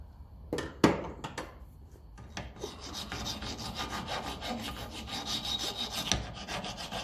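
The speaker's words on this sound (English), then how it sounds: "So we can tidy up this pin a bit with our file." A hand file rasps rust off a steel pin from a 1954 Ferguson 20 TEF diesel tractor, with a few sharp knocks at the start followed by steady, close scraping strokes. No one speaks.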